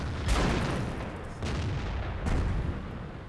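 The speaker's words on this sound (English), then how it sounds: "And of course, there's the artillery, like I told you." Artillery fire striking a tank in World of Tanks, heard as three heavy booming impacts about a second apart, loud and close, each with a rumbling tail and no voices.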